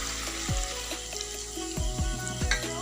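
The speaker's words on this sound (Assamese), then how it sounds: "এতিয়া মই ইয়াতে পানী দিম।" Water hits duck meat sizzling in a hot pan for a duck and ash gourd curry, a loud hissing fry with several sharp bursts of sizzle and bubbling, close up and without talk.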